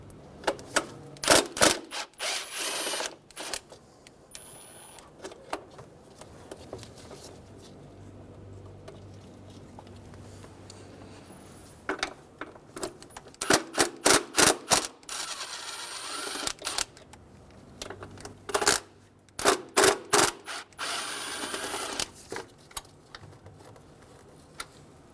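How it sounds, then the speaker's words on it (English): A 10mm socket and ratchet working loose the two nuts and two bolts on the throttle body of a 2005-2015 Toyota Tacoma 2.7L four-cylinder, heard as close bursts of rapid ratchet clicking separated by quieter pauses. "Using a 10mm socket, remove the two nuts and the two bolts for the throttle body."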